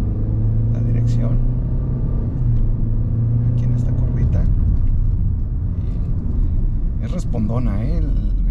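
Kia Sonet SUV driving uphill, a low steady engine rumble and road noise under acceleration from inside the cabin, with a voice talking over it.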